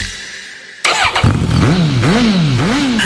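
A Royal Enfield motorcycle engine starts abruptly and revs up and down several times in a radio advertisement, loud and close, rising and falling in repeated swells.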